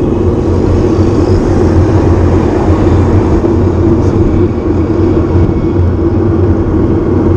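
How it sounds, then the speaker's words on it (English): A loud, steady low rotor-and-engine drone hangs close overhead, unbroken and unchanging throughout, with no voices. "there's a helicopter hovering right above me"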